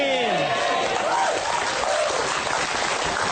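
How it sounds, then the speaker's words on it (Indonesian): Audience applause at a live Indonesian comedy show, a steady dense wash of clapping throughout while a voice carries over it. "Nah, tepuk tangan."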